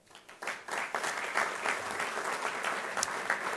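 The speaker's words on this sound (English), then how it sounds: "we'll certainly tell him that he get a loud cheer" An award-ceremony audience breaks into applause for a Michigan company winner, many hands clapping in a dense, steady roar that swells in quickly and holds at a moderate distance.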